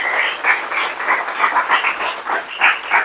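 A church congregation claps together in a steady, pulsing wave of applause that swells and dips, fairly loud and close, with no voices over it.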